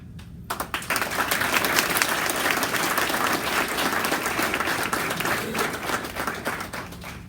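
Audience applause at a sheriff's office meritorious awards ceremony, a steady sustained round of clapping from a large crowd that starts abruptly and fills the room at close range for several seconds.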